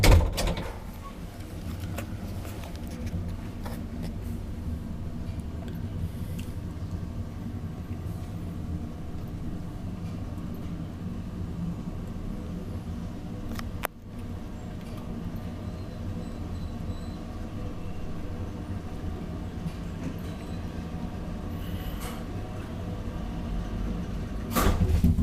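Ride inside a 1966 Valmet-Schlieren traction elevator in a Vaasankatu apartment building in Helsinki, with a steady low hum and rumble of the moving car, a sharp thump midway, and no talking.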